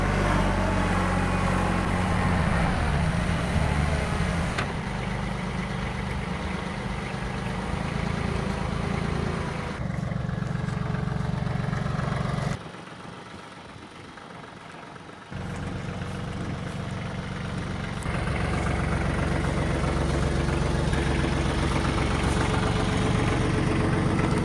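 A TYM compact tractor engine idles steadily nearby, a loud continuous diesel rumble that drops away briefly in the middle before resuming at the same level.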